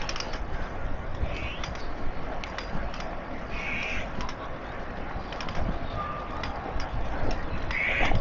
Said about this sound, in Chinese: 听到很多鸟叫声